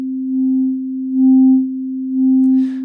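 Synth tone from the Serum plugin with drive distortion: a steady low sine-like hum swelling three times in volume, with a brief noisy burst near the end.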